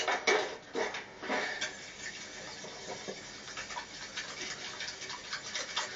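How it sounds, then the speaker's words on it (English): Wire whisk beating two eggs in a bowl for coconut bread batter, quick ticking metallic taps at the start that settle into a soft, steady clatter, fairly quiet and close. "now let's just grab a whisk"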